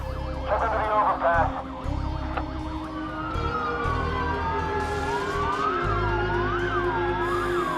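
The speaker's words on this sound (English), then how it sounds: "the police car is going to come down the street" A police car siren wails and yelps in the Watch Dogs video game, loud and close over the low hum of the game's background, with a voice talking over it.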